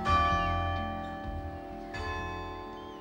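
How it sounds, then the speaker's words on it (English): Church bells in Brixham ring out a slow hymn tune, resonant tones overlapping and sustaining as each new bell strikes, fairly close and clear with no voices. "where even the church bells ring out the famous tune"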